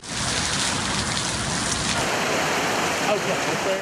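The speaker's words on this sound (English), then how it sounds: "It's a familiar sound in the summer. Rain and thunderstorms are common in West Virginia" Steady summer rain with a thunderstorm rolling through West Virginia, a dense continuous hiss of falling rain at even loudness throughout, with no distinct thunder crack standing out.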